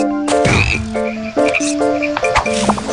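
Cartoonish frog croaks from the BattleBlock Theater video game, a loud run of repeated croaks and plinking tones over lively game music and effects.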